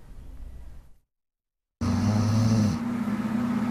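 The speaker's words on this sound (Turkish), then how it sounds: "Horlama var." A loud, rough snoring sound comes in after a short noisy stretch and a second of silence, then holds steady and close for nearly two seconds.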